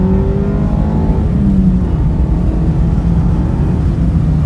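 Steady engine drone from a Mazda Miata ND2 under way, the pitch shifting as it revs and holds, loud and continuous inside the car with road noise.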